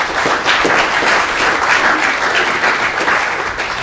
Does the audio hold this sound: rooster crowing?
no